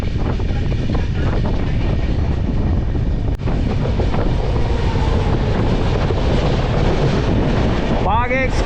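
The Bagh Express train rushes past on the rails, a loud continuous rumble of wagons with wind buffeting, a brief sharp click partway through, and a voice near the end.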